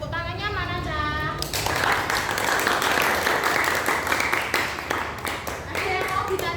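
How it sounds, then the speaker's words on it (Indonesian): A group of listeners claps for a presenting team during a teachers' coaching session in Pati. The clapping starts after a voice, is steady and fairly loud for about five seconds, then fades as speech returns. "Tepuk tangannya mana, Cak?"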